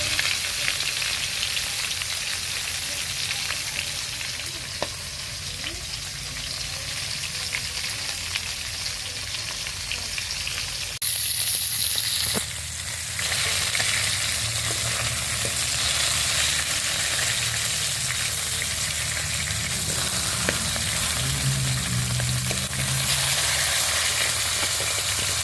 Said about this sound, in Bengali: পাঙ্গাস মাছটা আগে ভুনা করে নিব